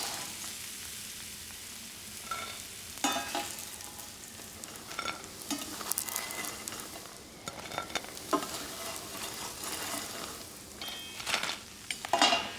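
Port wine bubbling and sizzling as it reduces in a hot pan on a home kitchen stove, a continuous close hiss broken by scattered clinks and scrapes of utensils against the pan.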